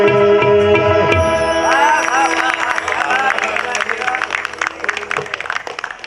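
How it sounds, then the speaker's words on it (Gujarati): Live audience at a Gujarati poetry and ghazal recital applauding poet Viral Desai, the clapping rising as a sustained music note fades, with crowd noise and murmuring mixed throughout at close range. "જોરદાર તાળીઓ વિરલ દેસાઈ માટે"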